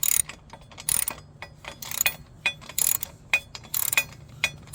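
Ratchet wrench tightening the leg guard bolts on a Royal Enfield Super Meteor 650 motorcycle, sounding as a series of close, quick clicking bursts separated by short pauses.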